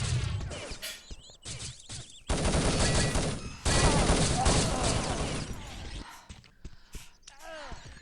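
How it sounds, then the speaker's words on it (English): A grenade explosion and gunfire in an Urban Zone capture-the-flag match, with rapid bursts of shots, loud blasts in dense stretches, and chaotic clattering between them. "great nade there by Exotic"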